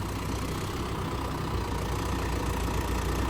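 A tractor engine idles steadily with a low, rumbling chug, constant and close, with no voices.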